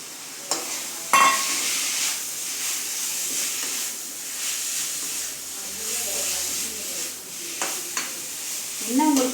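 Ground soya for a soya chilli idli is sautéed and stirred in a pan, giving a steady, moderate sizzle with occasional scrapes and knocks of the spoon.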